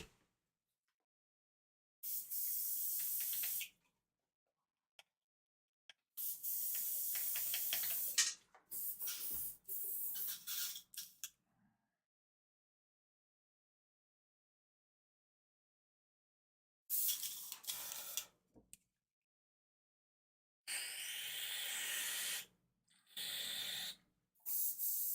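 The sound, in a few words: airbrush being cleaned out, spraying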